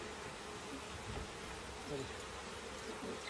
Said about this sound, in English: a couple of bees not very happy.